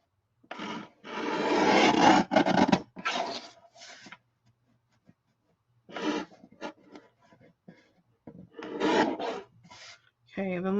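Paper being trimmed for a craft project, a series of rough rasping cuts in bursts with short pauses between, close and fairly quiet.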